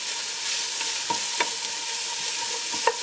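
Ginger and smoked sausage sauté in a pan with a steady hiss and sizzle while a utensil stirs, giving a few sharp scraping clicks against the pan; close and alone, with no talk.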